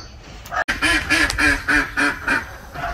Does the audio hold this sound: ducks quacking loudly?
yes